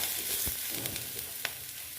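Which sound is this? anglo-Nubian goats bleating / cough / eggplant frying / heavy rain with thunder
eggplant frying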